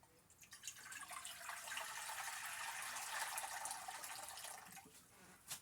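Filtered water runs steadily from a tap into a pot for pasta, a continuous hiss lasting several seconds at close range before it stops.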